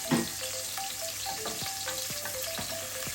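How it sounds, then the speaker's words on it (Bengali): Onion paste fries in oil in a pan, giving a quiet, steady sizzle with a few soft stirring clinks and taps; no one speaks. "এই পেঁয়াজটা যখন তেলে একটু ভাজবো"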